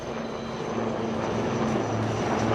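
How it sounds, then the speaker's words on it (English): Steady engine and rotor drone of the Indian Army's Rudra advanced light helicopter Mark IV, an armed variant flying at the Aero India 2023 air show in Bengaluru, loud and continuous with no talk. "you can now see the advanced light helicopters Mark IV of the Indian Army, known as the Rudra."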